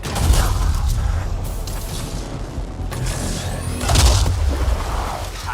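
Dense, continuous gunfire and rumbling explosions in the sci-fi shooter Anthem: a loud, steady wash of combat with a couple of stronger blasts, and no clear speech.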